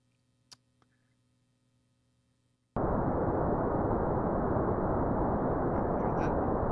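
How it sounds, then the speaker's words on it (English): Low-pass filtered Gaussian noise played in a lecture room: after a few seconds of near-quiet with a faint tick, a loud, dull, muffled rushing noise starts abruptly and continues steadily. "here's the low pass Gaussian noise."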